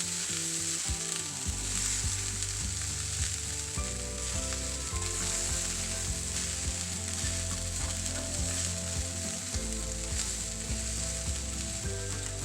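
A broccoli, cheese and rice mixture sizzles steadily in a pan while it is stirred, with clinks and scrapes against the pan. A loud, low, layered hum runs underneath throughout.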